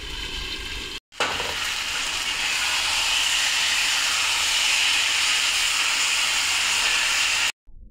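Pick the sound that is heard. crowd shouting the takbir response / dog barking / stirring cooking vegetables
stirring cooking vegetables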